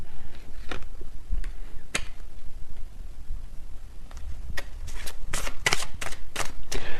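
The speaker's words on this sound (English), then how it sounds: "when I shuffled this messages deck" A tarot messages card deck is shuffled by hand in a series of crisp riffling bursts, sparse at first and then quicker and clustered, loud and close with no talking.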